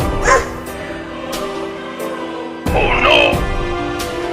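A dog yips and barks a few times amid a noisy, busy scene, with a voice talking over part of it.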